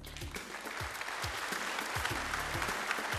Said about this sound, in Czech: Áno, veľký potlesk zaznívá sálem Domu kultúry Trysia v Třinci.